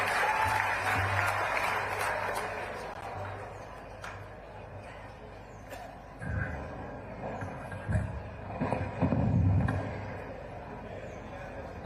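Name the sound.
audience applause greeting the chief minister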